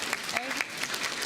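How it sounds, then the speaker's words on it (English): An audience claps for staff at a New York State dairy ambassador competition, a short burst of scattered applause heard from a distance with some voices mixed in. "Give them a round of applause, too."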